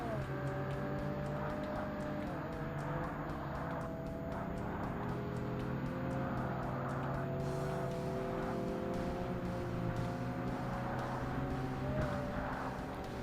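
Hatchback race cars in an amateur hatchback race in Forza Motorsport roar together at close range, a steady dense engine drone with rising and falling gear changes throughout, cars packed tightly around, no talk over it.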